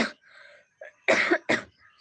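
Several short, harsh coughs come in quick bursts near the end, close and fairly loud, after a brief throat-clearing sound.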